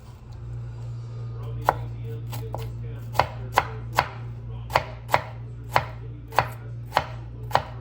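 A knife chops an onion on a cutting board, giving sharp, distinct knocks at an uneven pace over a steady low hum in a home kitchen.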